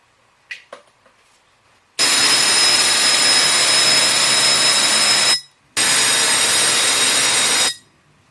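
High voltage discharge inside an evacuated vacuum chamber glowing pinkish red: a loud, harsh, steady buzzing hiss in two long bursts separated by a short gap, preceded by a few faint clicks.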